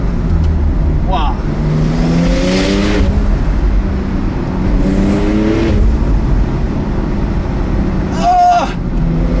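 A Porsche 992 Turbo S pulls hard in third gear, its engine rising in pitch through repeated strong accelerations over heavy road and wind noise, with voices talking in the cabin.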